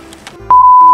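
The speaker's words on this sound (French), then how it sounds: "Bon bah je mettrai un bip." A single steady censor bleep tone cuts in halfway through, loud and sustained to the end after a brief stretch of quiet talk-like sound.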